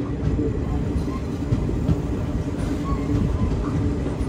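Venkatadri Express running between Chittoor and Kachiguda, a steady low rumble and rattle of carriages heard from inside the train, with faint rhythmic rail clatter and murmuring passengers in the background.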